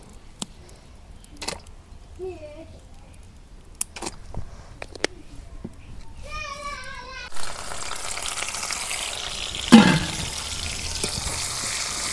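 Mustard oil hitting a hot wok on a relit stove: the first half is quiet with scattered clinks and a brief faint voice, then a loud steady sizzle swells and continues to the end.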